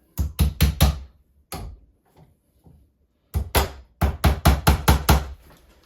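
A door hinge on a retrofit interior double door is tapped into place with a hammer, in two quick bursts of sharp, close knocks: four rapid hits, a pause with a few stray taps, then a longer run of about eight hits.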